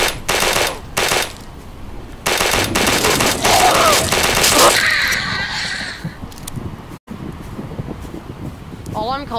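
Rapid automatic gunfire shooting zombies in a Roblox game, loud bursts of bullets in several clusters that stop partway through, followed by quieter game sounds and a brief spoken exclamation.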